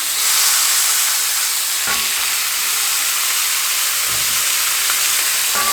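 Pork chops searing in a hot cast iron skillet give a loud, steady sizzle with a dense hiss that holds unbroken from start to finish, with a few soft knocks partway through.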